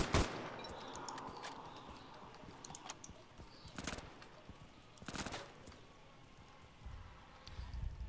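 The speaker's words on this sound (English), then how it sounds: "Taking some fire" Gunfire in a firefight in an alley in the video game Insurgency: a handful of sharp, isolated shots crack out at irregular intervals over a low, fairly quiet background.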